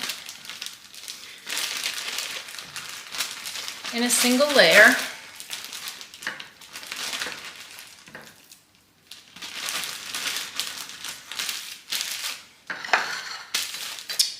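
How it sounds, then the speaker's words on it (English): A plastic bag of chicken pieces crinkles and rustles in bursts as it is handled close by, alongside light clattering, with a person talking in between. "I'm going to put a few of them in a plastic bag"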